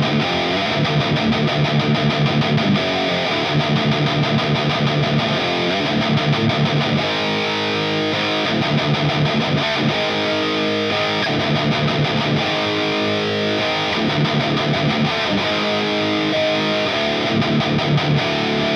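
An electric guitar is driven through a Fortin Hexdrive pedal set to maximum, giving a thick, clipped and distorted tone. Chords repeat in rhythmic bursts separated by short gaps, loud and alone without speech.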